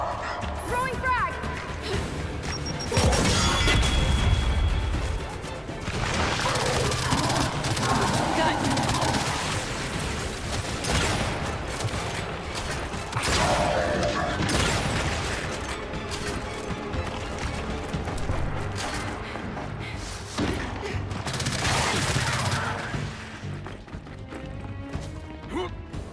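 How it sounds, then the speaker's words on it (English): Frag grenade blasts and gunfire in Gears 5 combat: a heavy low boom near the start, followed by repeated loud bursts and crashes of battle, with voices talking over the chaotic fighting throughout. "Throwing frag!"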